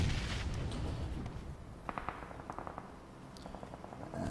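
Grenades burst in a video game match, a cluster of quick cracking pops and muffled blasts of moderate loudness, some close together, others spaced out.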